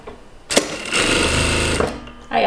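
An industrial sewing machine stitches fabric in one loud, steady burst of about a second and a half, its rapid needle rattle starting and stopping abruptly, with faint noises before and after.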